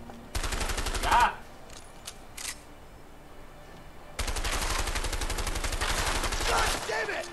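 Bursts of rapid automatic gunfire in the video game A Way Out: a short, loud volley, then a few isolated shots, and a long sustained burst of fire, with no talk over it.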